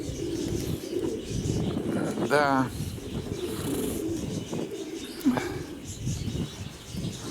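Pigeons released from a dovecote coo softly against steady wind noise, with a person talking briefly nearby.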